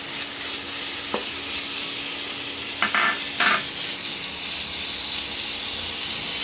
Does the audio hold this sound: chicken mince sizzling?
yes